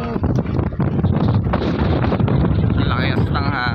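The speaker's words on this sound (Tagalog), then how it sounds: "Lakas ng hangin." Strong wind buffets an outdoor microphone at a seaside military camp in Ilocos Norte, a loud continuous roaring rumble filling the whole stretch, with a voice faintly present beneath it.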